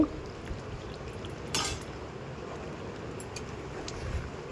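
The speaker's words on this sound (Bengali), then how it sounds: "তো দেখো ঢাকনা খুলে আবারও আমি নেড়ে চেড়ে নিচ্ছি।" A spoon stirs cooking food in a lidded home pot, giving quiet scrapes and a few soft metallic clinks over a low background hiss, with no voices.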